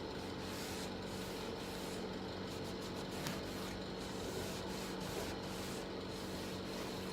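Dark black wax is rubbed onto furniture with a cloth or brush, making a faint, steady scrubbing hiss that keeps going with short rhythmic strokes and no talking.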